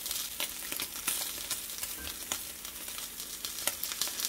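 Sausages frying in oil make a steady, dense sizzle with scattered crisp pops and crackles, close and continuous with no voices.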